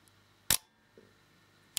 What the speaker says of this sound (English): when it gets up near the top it will fire the shutter